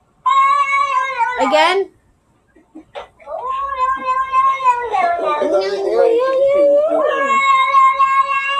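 A cat meows in long, loud, drawn-out cries close to the microphone, one call, a short pause, then a longer wavering caterwaul, with a person briefly speaking.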